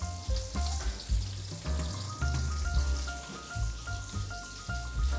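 Shrimp frying in a hot pan for Italian fried shrimp, a steady dense sizzle with crackling pops and occasional stirring or utensil clinks throughout, close and fairly loud with no talk.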